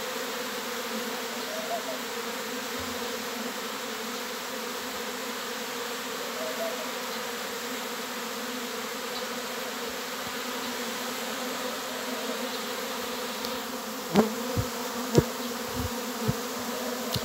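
A honey bee swarm hums in a steady, dense drone throughout, with a continuous buzzing texture; a few sharp knocks and thumps break in near the end.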